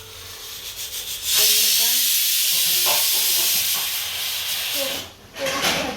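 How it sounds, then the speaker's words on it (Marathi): A pressure cooker whistle lets out a loud, sustained hiss of steam for several seconds, with voices talking nearby before and after. "हे बघा कुकरची शिट्ट्या पण होतात"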